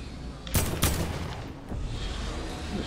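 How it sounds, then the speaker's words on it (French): Gunfire in the Fortnite video game: two sharp shots stand out near the start, followed by a quieter, steady rumble of distant fire and game noise. "il y a quelqu'un qui me tire dessus."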